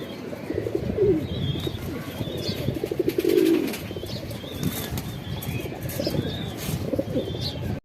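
Shahjahanpuri tumbler pigeons coo in low, rolling calls close by while wings flap in repeated bursts, with a fairly loud, busy flutter through the whole stretch.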